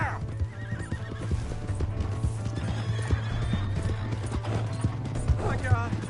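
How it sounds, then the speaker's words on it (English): A horse in Red Dead Redemption 2 gallops with steady clip-clopping hooves under a constant low rumble and gives a shrill neigh near the end, with people talking over it. "Hey, that's my horse!"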